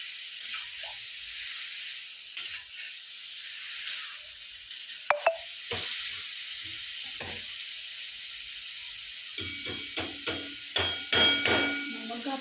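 Spoon stirring soybean curry with spices in a pan, with quiet scraping and soft sizzling, a sharp clink partway through, then a run of brisker stirring knocks near the end; no talking.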